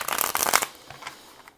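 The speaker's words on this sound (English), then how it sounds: "one more shuffle and then we'll cut the deck." A tarot card deck is riffle-shuffled, a rapid close burst of flapping card clicks lasting about half a second, followed by a few soft card taps.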